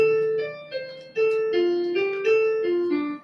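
A keyboard plays sustained chords while an upper line of notes steps through several pitches, landing with slightly clashing, unresolved tones. No voices.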